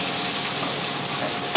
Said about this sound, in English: I'm now going to put in some of the Polish sausage.